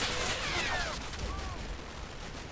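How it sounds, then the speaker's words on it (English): A war video game set in Normandy roars with a dense, continuous wash of distant gunfire and mortar blasts, with faint whistling overhead and no clear break in the rumbling battle noise. "The mortar's getting them to retreat."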